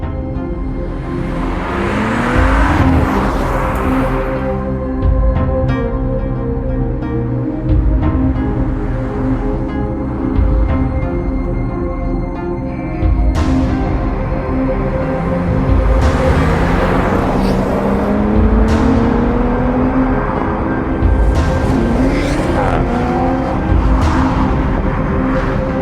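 A 2019 Audi RS4 Avant is driven hard, its engine rising through repeated surges of acceleration with gear changes between, a loud continuous roar heard from inside or close by.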